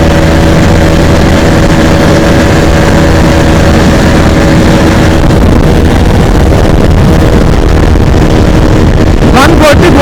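Bajaj Pulsar 220F motorcycle held at full throttle, its steady loud engine drone mixed with heavy wind rush, continuous throughout with a brief sharp disturbance near the end.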